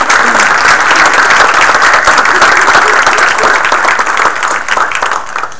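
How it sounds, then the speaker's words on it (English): A room full of people at a township council meeting gives a sustained round of applause for police officers, steady and dense clapping throughout before tapering slightly at the end. "Another nice round of applause for the officers tonight."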